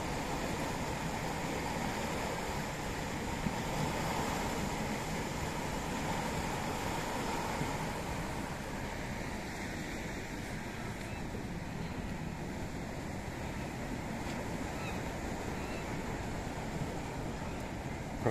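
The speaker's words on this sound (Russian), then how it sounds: "Вот она, бурлящая вода." Water churns and bubbles steadily at a lock gate on the Escaut river near Kain, Tournai: a constant, moderately loud rushing wash with some wind noise and no clear break.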